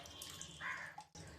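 Water poured as an offering to Lord Shiva during a home puja trickles and splashes faintly for about a second, then briefly stops and resumes softly.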